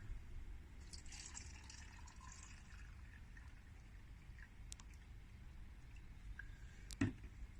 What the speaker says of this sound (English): I'm going to fill it up